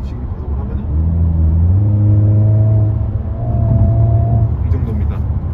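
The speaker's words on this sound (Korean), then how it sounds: "속도를 살짝 줄였다가 가속을 한번 해보도록 하겠습니다" A Hyundai Kona N accelerates on the road, heard from inside the car: a steady engine drone rises smoothly in pitch for several seconds, then eases off.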